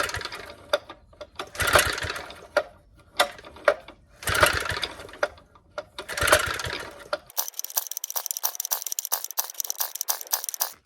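A vintage Hustler tiller engine is cranked over and over without catching, with rapid rhythmic mechanical chugging in several bursts and short pauses, then a thinner buzzing rattle near the end.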